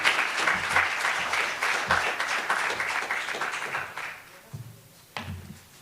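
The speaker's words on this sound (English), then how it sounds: "Let's give her another round of applause, ladies and gentlemen, as she steps up." An auditorium audience applauds as a professor steps onto the stage, dense clapping that fades after about four seconds into a few scattered claps and thumps.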